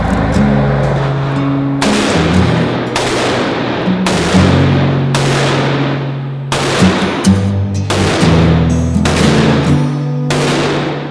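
Weapon gunfire goes off as loud, sharp repeated shots, about ten bursts spaced irregularly over a continuous low engine drone.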